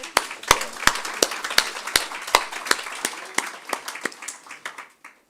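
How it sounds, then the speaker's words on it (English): Sparse, sharp hand claps at the close of an annual public lecture on the Kingston Harbour cleanup project, a modest round of separate claps fading out over about five seconds. "Can we give him a round of applause?"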